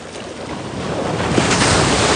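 Ocean surf and gentle waves heard from the water at sunrise by someone in a wetsuit on a calm day, a continuous close wash of water mixed with wind rumble on the microphone, no talking.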